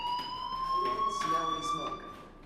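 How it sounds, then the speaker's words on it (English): A school fire alarm in the video game Life Is Strange rings as one steady, high electronic tone with bright overtones, holding constant throughout while voices murmur faintly over it. "Hey, do you hear that fire alarm?"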